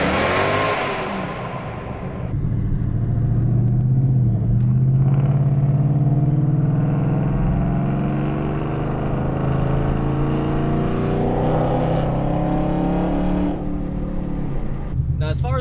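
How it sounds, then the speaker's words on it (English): Ford Mustang with JBA long tube headers and a resonator delete, a deep, steady exhaust drone that rises after a brief opening and holds at a loud, even level throughout. "the sound of my particular Mustang, I really like it. It sounds really deep."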